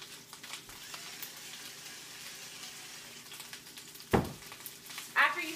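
Brussels sprouts seasoned with salt and pepper sizzle steadily in a hot pan, a close continuous frying hiss broken by a couple of sharp scraping stirs toward the end.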